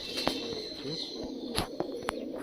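A pair of Malwai pigeons coo softly and intermittently at close range, with a few clicks and rustles over a low background hum.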